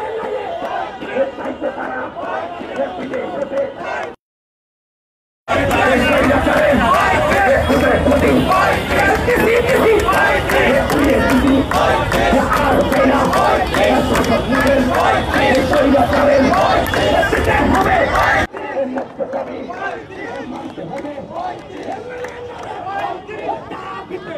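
Protesters chanting slogans in a rhythmic massed crowd outside the Rupayan Trade Center at Bangla Motor, loud and continuous, with a brief cut to silence and a quieter chattering stretch afterward.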